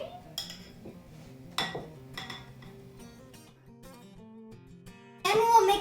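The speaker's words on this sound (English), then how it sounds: "we'll mix the brown sugar and the sour cream in the whipped cream" A utensil clinks and scrapes against a bowl while brown sugar and sour cream are folded into whipped cream for a creamy grape salad, giving light, scattered taps over a soft tonal background and a louder rattling burst at the end.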